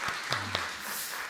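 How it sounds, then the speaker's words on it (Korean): Applause from a congregation at a Friday church prayer service, a brief burst of scattered claps over a low hum, fairly faint and lasting just over a second. "우리 하나님께 영광의 박수 올려드리겠습니다"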